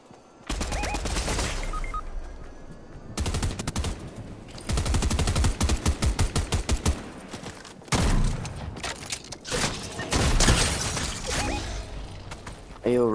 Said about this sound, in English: Hey, yo, more shots over there